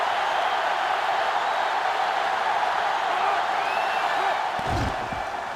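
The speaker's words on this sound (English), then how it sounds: "this crowd is going absolutely insane" A video game football stadium crowd roars at a steady, loud, broad level throughout, then a brief thump and a dip in the noise come near the end.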